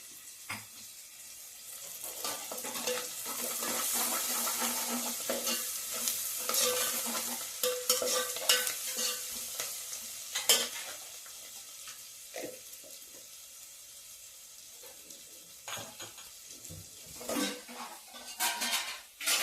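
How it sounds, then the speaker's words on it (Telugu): Spices tempering in a pan for upma with turmeric added, a steady sizzle under frequent stirring clatter and metal utensil taps against the pan, close and continuous, no talk. "తాలింపు అయితే వేగుతా ఉంది."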